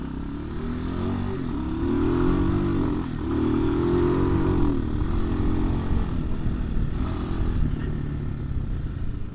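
A Hawk 250 motorcycle engine with a carburetor badly needing a tune runs steadily close by, a throbbing drone that swells slightly in revs and holds for the whole stretch with no talking.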